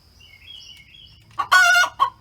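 Hens near their nest boxes sing the egg song, loud rhythmic cackling bursts arriving after a near-quiet start with faint high chirps, close by and without talk.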